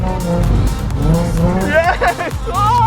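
A stock Nissan 350Z street car drifts with its tires squealing in rising and falling wails over loud engine roar, close up, and excited voices shout over it.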